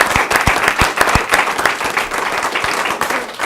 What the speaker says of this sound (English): So we want to take a picture, but one more round of applause for Madeline.